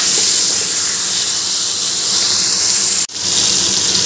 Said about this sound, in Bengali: এবার আমি ইলিশ মাছের মাথাটা উল্টে পাল্টে ভেজে নেব।